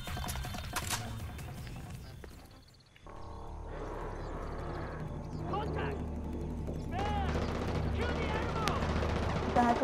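Gunfire in Far Cry 4 on a custom map: a rapid burst of shots crackles early on, then dense, sustained game noise with scattered reports and an animal-like roar, under a player's talk.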